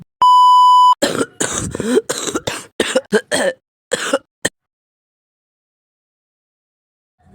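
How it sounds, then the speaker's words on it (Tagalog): A steady electronic beep, then a burst of repeated harsh coughs and throat clearing in quick succession, close up, before silence falls. "Parang kanina ka pa ubo na ubo ah"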